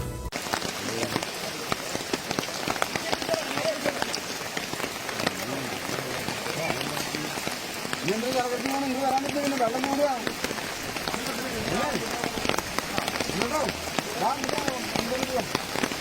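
Heavy rain pours steadily in Thrissur district, a dense, continuous patter drumming on surfaces close by, while a voice speaks over it throughout.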